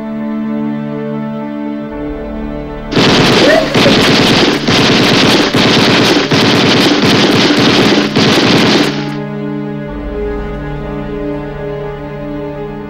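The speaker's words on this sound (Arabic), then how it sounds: "لشو عم بتقوس بهالرشاش؟" Machine gun fire at a rally in a public square, loud and close, rattling out in rapid bursts for about six seconds with short gaps, preceded and followed by quieter background crowd hum.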